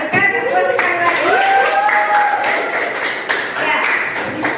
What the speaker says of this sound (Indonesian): berikan tepuk sekali lagi